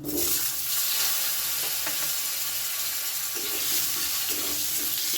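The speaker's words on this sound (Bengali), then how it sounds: "আলুগুলো কিন্তু বেশ লাল লাল করে এবারে আমি ভেজে নেব" Potato pieces sizzle in hot oil with bay leaf, dried chillies and whole cumin for a green banana curry, a dense, steady close hiss without talking.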